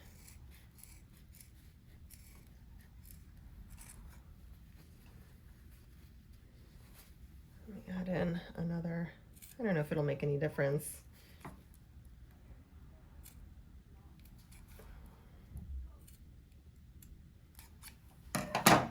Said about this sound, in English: I'm going to use, these scissors here